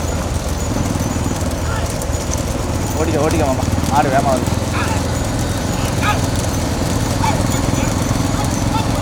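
Bullocks pulling carts race at speed in a village bullock cart race in Tamil Nadu, with steady hoof clatter, rumbling wheels and a constant crowd roar throughout, and excited commentary and shouting over the top.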